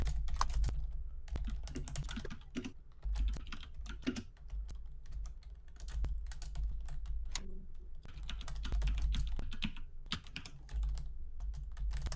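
Continuous typing on a computer keyboard while writing a story in a game's story mode, with rapid clustered keystrokes and short pauses, near and steady throughout, with no talking.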